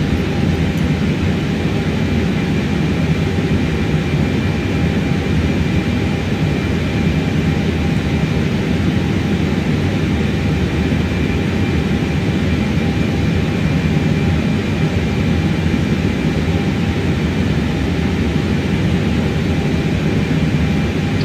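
A simulated airliner descends in Microsoft Flight Simulator 2024, giving a steady, loud, unbroken engine and airflow roar with a low rumble that holds constant for the whole stretch, with no voices.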